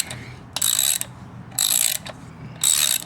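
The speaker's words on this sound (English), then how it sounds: "It's always the last bolt doesn't want to come out." A ratchet wrench clicking in three short bursts while working a stuck bolt on a Ford Explorer during power steering pump replacement, close up with a low background hum between strokes.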